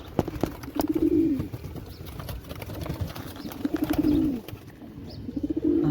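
Several pigeons coo in a loft with nestlings, three low rolling coos rising and falling in turn over light rustling and faint chirps nearby.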